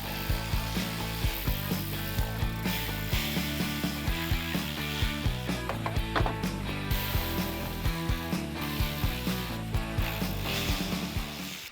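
Bolts are ratcheted out of the arch cladding near the front fender of a BYD Shark 6, giving steady loud repeated clicking bursts with regular rhythmic strokes throughout, close and without talk.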